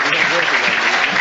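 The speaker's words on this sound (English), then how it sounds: "And he gets a round of applause." Football crowd at a Stevenage versus Coventry City match applauding a substituted player as he leaves the pitch, a steady wash of clapping filling the stadium throughout, with commentary voices mixed underneath.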